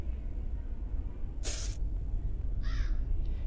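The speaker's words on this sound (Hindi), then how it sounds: "ये कौए को भी शांति नहीं है भाई" A single crow caw sounds in the horror game Granny, coming shortly after a brief sharp hissing burst, both heard over a low, steady ambient rumble with no speech.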